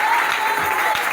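An audience claps in steady applause for an interpreter at a church thanksgiving gathering, a continuous mid-level patter of many hands throughout.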